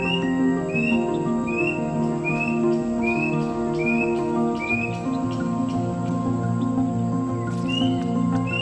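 A plaintive cuckoo, the kedasih, repeats a rising, whistled call about every half second, clear and fairly close, over a steady droning background.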